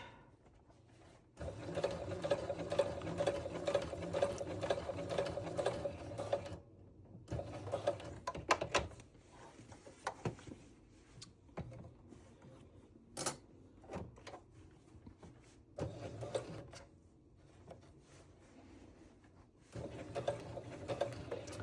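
A sewing machine top-stitches binding onto a quilted project, running in several steady whirring bursts of a few seconds each with brief pauses between them, close and alone.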